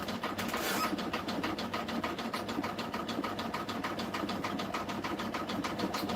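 An embroidery machine stitching the outline of a hat runs steadily at close range, a fast regular mechanical chatter with a constant hum underneath and no voices.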